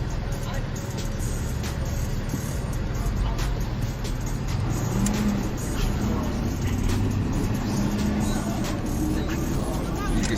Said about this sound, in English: You can see us driving along here.